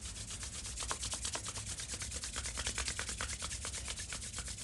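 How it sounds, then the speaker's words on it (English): Two hands rub briskly together to warm up, giving a continuous close, dry swishing friction with a quick back-and-forth rhythm and no talking. "allow yourself to rub your hands together until they feel nice and warm."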